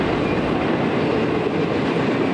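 Steady, loud rumble of a train rolling past a road crossing on the Union Pacific line at Ina Road, a continuous broadband roar with faint wheel clatter and no voices.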